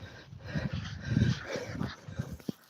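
A small dog yips and barks in short bursts while greeting other dogs off lead on a woodland walk, with a sharper yip near the end and a louder cluster in the middle.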